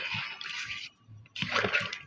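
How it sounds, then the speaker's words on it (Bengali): Water is poured into a rice flour mixture cooking in a pan, two bright splashy bursts with a short quiet gap between them, close and alone. "এটা আরেকটু পরিমাপ মতো জল দিলাম"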